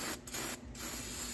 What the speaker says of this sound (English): Try a little carburetor cleaner.